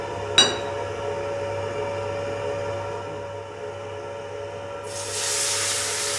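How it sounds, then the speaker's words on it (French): Port wine poured into a hot pan while cooking rabbit: a sharp clink, then a steady low hum, before a sudden loud hiss of sizzling erupts near the end. "Et là on déglace au Porto."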